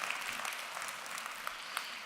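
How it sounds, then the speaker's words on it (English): An audience at a morning company gathering applauds with steady, dense clapping, moderately distant and fairly soft, holding evenly across the short stretch. "let's give a round of applause to these stories that have been shared this morning"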